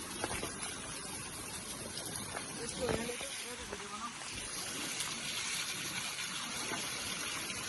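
Water gushes along a stream channel near a fishing spot, a constant close rushing flow with brief faint background sounds.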